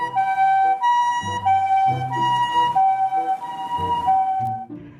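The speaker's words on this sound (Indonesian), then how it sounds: "mobil ambulan" A toy ambulance plays its electronic two-tone siren, alternating steady high and low wails in a loud, unbroken loop with no talking over it.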